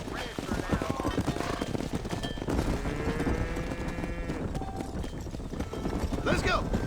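A horse gallops in Red Dead Redemption with rhythmic hoofbeats on a dirt trail under a character's voice and background game music.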